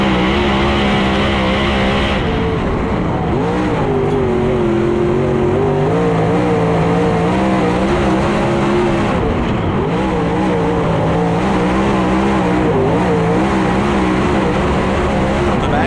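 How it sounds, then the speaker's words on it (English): Race cars at LaSalle Speedway battle in a pack on the oval, their engines roaring loud and continuous with rising and falling revs as they run the high side. A race commentator talks over the engines throughout. "Tony Jackson Jr., Dylan McCowan, and Aaron Moran all battle it out for third, fourth, and fifth as they are lined up on the high side here at LaSalle Speedway."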